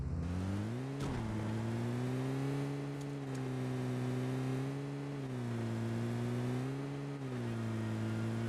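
A car driving in the game PUBG, its engine droning steadily with a few rises and dips in pitch as it shifts and accelerates, loud and close for the whole stretch.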